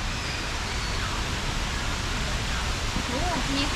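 Stream water flows at a busy riverside spot near a waterfall in Kanchanaburi, a steady broadband rushing close by, with faint voices of people at the edge.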